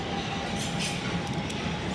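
Train rolling past near London Bridge, a loud continuous rumble and rail roar filling the whole stretch, with faint metallic squeal accents near the end and no talking.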